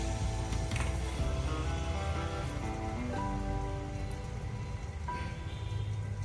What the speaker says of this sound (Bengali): তারপর আস্তে আস্তে তেলে ছেড়ে দিচ্ছি যাতে এক্সট্রা ব্যাটারটা না যায়